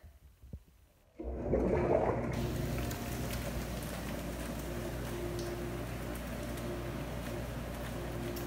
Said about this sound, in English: let's turn the bubbles on and see what we've got